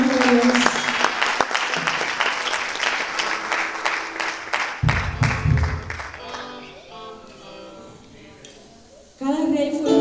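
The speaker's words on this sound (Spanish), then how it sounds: "Denle un fuerte aplauso al Señor" Congregation at a men's church service breaks into loud applause mixed with voices, the clapping thinning out midway as talk and singing-like tones continue, then a voice rises again.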